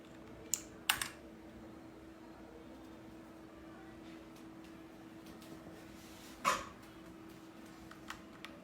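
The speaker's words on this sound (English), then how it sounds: "The keyboard sound is really satisfying" Sparse keystrokes on an A4tech Bloody B820R mechanical keyboard, a few isolated clicks over a steady low room hum, fairly close and quiet.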